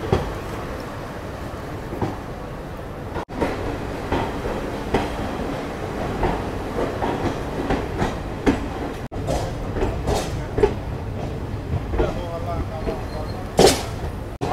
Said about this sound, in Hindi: अपनी स्पेशल गरीब रथ एक्सप्रेस निकल चुकी है धनबाद जंक्शन से।